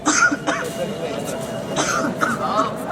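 A child coughs a few times in an outdoor school street play, with short rough bursts near the start and again later, over a steady murmur of crowd and background noise.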